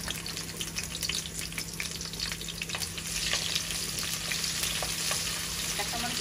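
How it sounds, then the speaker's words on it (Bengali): Garlic and onion sizzle steadily in hot oil on a home stove for Bangla cabbage and egg bhaji, a close, continuous crackling fry with occasional stirring scrapes and no talking. "তেল গরম হয়ে গেছে। আর এখন রসুন আর পেঁয়াজ দিয়ে দিতেছি"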